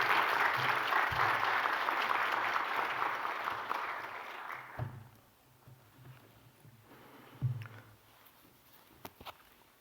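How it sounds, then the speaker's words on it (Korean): Church congregation applauds to welcome a visiting pastor to the pulpit, a broad burst of clapping for about five seconds that fades into quieter room noise with a few scattered thumps. "우리 나오실 때 박수로 환영하도록 하겠습니다."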